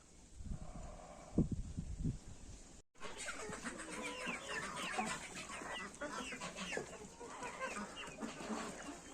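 A turkey hen clucks softly among her young chicks in a poultry yard, with close, repeated low clucks and peeps that continue steadily through the clip after a brief break.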